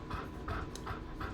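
A dog pants rapidly and rhythmically close by, about four quick breaths in a steady loop with no speech over it.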